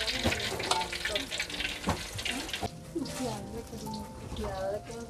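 Banana pieces in batter frying in hot oil, a steady sizzle with some watery splashing and stirring, heard under continuous talk.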